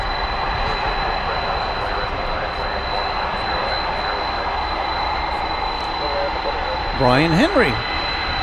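A Boeing 777 jet airliner at DFW Airport gives a steady, broad engine roar that fills the whole stretch, with a person talking over it near the end.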